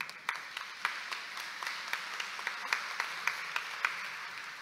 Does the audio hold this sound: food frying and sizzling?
no